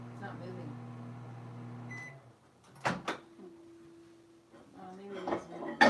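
A microwave oven runs with a steady low hum for about two seconds and then stops. Soft clunks and handling noises follow, with quiet background sounds and a voice near the end.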